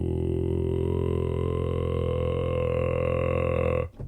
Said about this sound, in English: So that would be a subharmonic.